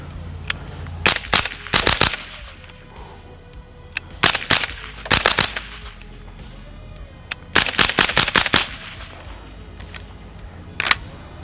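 A DIY Colt DOE gun fires in loud, sharp volleys: several quick bursts of rapid shots split by short pauses, with single shots at the start and end.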